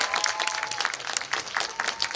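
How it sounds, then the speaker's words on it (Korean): An audience claps at a film event, a Q&A screening of "Seoul Spring": brisk, continuous applause from a crowd, close and steady for the whole moment with no pauses. "네 박수 부탁드립니다."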